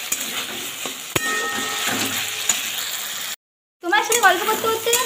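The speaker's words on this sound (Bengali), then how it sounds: "মুড়োটা দিয়ে ভালো করে নেড়ে নিচ্ছি" Taro greens (kochu shak) are stirred in a sizzling pan with the fish head added, mixing a loud hiss with scraping utensil knocks. A voice talks over it, and a brief silent cut splits the sound before the stirring resumes.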